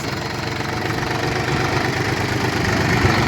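The engine of a concrete pump machine runs steadily at a construction site, a loud, continuous rumbling drone with rough low knocking and vibration, close by and unbroken, with no voices.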